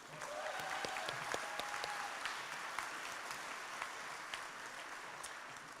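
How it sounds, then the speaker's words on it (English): Audience applause at a college graduation ceremony, steady clapping from a large crowd in a hall, moderately distant and sustained for several seconds. "A round of applause for our Master of Science."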